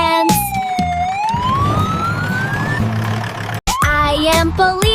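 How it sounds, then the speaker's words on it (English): A loud ambulance siren wails with rising and falling sweeps, close and continuous, briefly cutting out and returning, in an animated children's vehicle song. "I am ambulance, I rush in chance."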